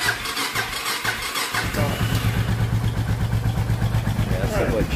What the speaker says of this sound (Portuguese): Motorzinho gelado, funcionamento da moto.